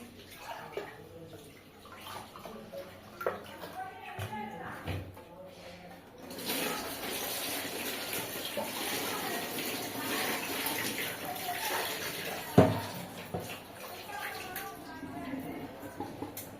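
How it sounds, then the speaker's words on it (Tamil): Tap water runs steadily while crab and prawns are rinsed in a home kitchen, a soft splashing wash that swells midway and continues beneath people talking. "போர் வாட்டரை கழுவிட்டு நல்ல தண்ணி பிடிச்சிக்கணும்."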